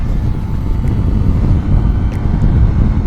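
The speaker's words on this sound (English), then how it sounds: "Oh, it's windy today." Wind buffets loudly and steadily on a Sym Maxsym TL 508 scooter being ridden on a windy day, with a dense low rumble throughout the short stretch and no talk.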